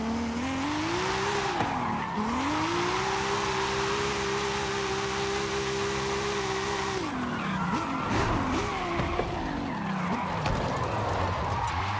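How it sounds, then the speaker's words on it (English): A tuned car in Forza Horizon 5, running 800 horsepower on 15-inch wheels at stock width, drifts with a loud, sustained tire squeal over a droning engine, slipping through long slides with pitch dips and rough skidding bursts near the end. "This is what the car drove like with 800 horsepower, but with the 15-inch wheels and the stock width"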